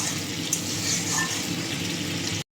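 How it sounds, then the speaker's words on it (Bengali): Water is poured into a simmering fish curry with poppy seed paste in a pan, a steady splashing rush for a couple of seconds over faint sizzling, then abrupt silence. "এখন আমি জল দিয়ে দেবো, বেশি জল দেব না"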